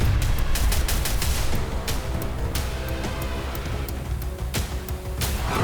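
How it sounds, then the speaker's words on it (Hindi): Bursts of gunfire and explosions in a war zone in Sumy, Ukraine: a dense, continuous barrage of sharp, rapid cracks and booms, like heavy automatic and artillery fire, loud and sustained throughout. "नई तैनाती के बाद सूमी में बड़े धमाके हो रहे हैं।"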